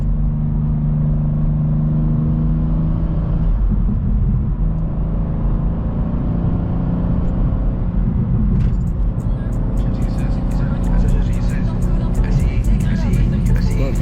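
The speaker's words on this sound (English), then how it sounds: "Let y'all hear the car a little bit." A stage 2 tuned G87 BMW M2 engine hums and rumbles steadily from inside the moving car, loud and constant, with music joining partway through.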